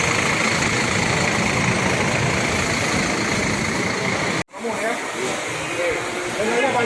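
A Hino RN 285 bus engine idles with a steady, broad low rumble and hiss that runs close and loud throughout, cutting out for a brief instant before resuming under faint background activity.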